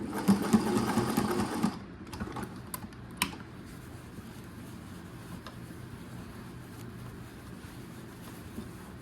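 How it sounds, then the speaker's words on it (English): A sewing machine stitching chevrons onto Dress Blues, a fast, loud mechanical whirring for under two seconds, then it stops, leaving soft clicks and handling noises in a quiet room. "we'll finish up by just sewing over what we've already started"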